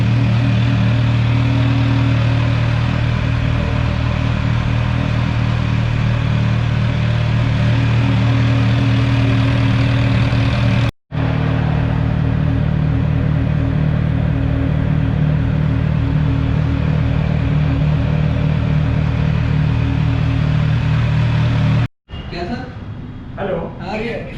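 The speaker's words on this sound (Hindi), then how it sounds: "आवाज़ थोड़ी कम आई है क्योंकि साइलेंसर थोड़ा तेज है एग्जॉस्ट।" A Kawasaki H2 motorcycle with a loud aftermarket exhaust idles steadily up close, a constant engine drone that cuts out briefly twice before resuming, with faint background sounds near the end.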